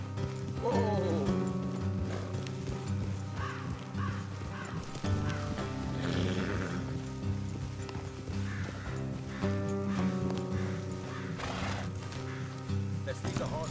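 Horses' hooves clip-clop at a trot through a dense Red Dead Redemption 2 game soundscape, steady and continuous under music and ambient effects, with a horse whinnying and characters speaking over the mix.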